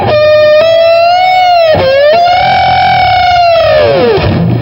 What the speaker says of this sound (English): hit both those harmonics almost at the same time and dip the bar